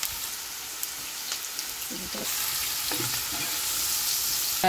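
Bay leaves and salt frying in oil in a pan alongside eggplant, a steady crackling sizzle that thickens midway, with a few soft stirring knocks close by.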